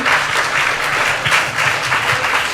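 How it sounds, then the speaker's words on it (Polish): A dense, steady wash of audience applause at a Polish Bastards Day event for young creators, many hands clapping evenly throughout at close, full volume. "Wielkie brawa dla nich"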